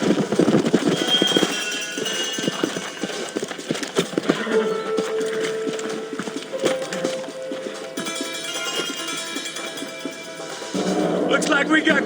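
Horses trotting in the video game Red Dead Redemption, a rhythmic hoof patter under game music and character voices that thins out as the riders slow down.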